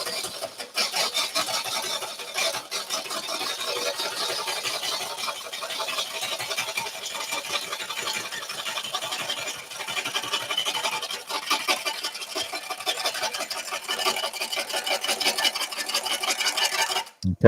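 A tool cuts a live edge burl bowl blank turning on a wood lathe, a steady close rasping scrape with fast fluttering chatter that runs almost without a break until a sudden stop.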